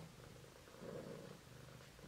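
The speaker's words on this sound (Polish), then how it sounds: "Wiecie, co mi mruczy na kolanach?" A cat purrs steadily and softly on a person's lap, a low continuous rumble with a slight swell midway, heard alone and close.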